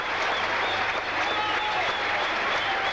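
A cricket crowd at a 1982 Sri Lanka v England Test match claps steadily for a boundary, with dense, sustained applause throughout and a faint murmur beneath.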